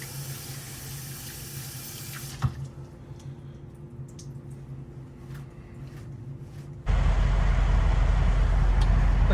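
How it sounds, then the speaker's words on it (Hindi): Water runs from a tap as hands are washed, a steady hiss that drops to a quiet drip-like pause partway through, then gushes back louder and fuller until the end. "अपने हाथ ज़रूर धो।"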